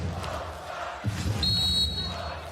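Crowd noise at a women's international volleyball match between Italy and Poland, a sustained roar of spectators with a whistle-like tone rising midway, under continuous commentary.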